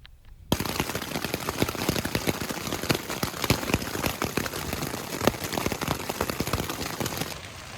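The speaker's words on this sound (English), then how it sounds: "it's just been pouring rain for a long time now" Heavy rain pours steadily at a riverside campsite, a dense continuous hiss of drops hitting surfaces, loud and close, starting abruptly and running unbroken with no talk.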